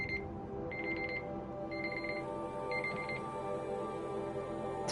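A timer alarm rings in repeated short electronic bursts, about once a second, over a steady low background hum indoors, with no talking.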